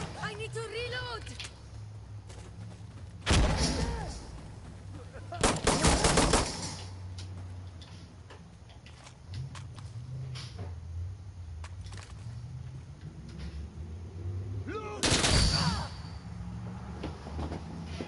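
Bursts of automatic rifle fire in the game Insurgency Sandstorm, three or four loud short volleys spaced apart over a low background rumble, with players talking over parts of the action.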